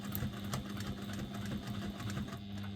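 A domestic sewing machine runs a steady, continuous stitching drone with a fast, even mechanical pulse, close and loud, with no talking over it.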